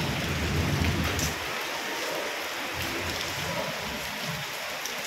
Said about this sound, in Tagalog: ang lakas ng kulog. Ay naaagos ang tubig.